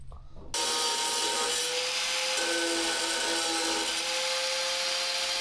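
Power saw cutting through a metal surplus ammo can lid, a steady, loud, continuous grinding whine that starts abruptly after a brief quiet moment and runs without pause, with no talking.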